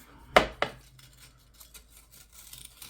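A small spoon scrapes and scoops old, stale instant coffee out of a container, giving two sharp, close scraping clicks near the start followed by faint, soft rustling.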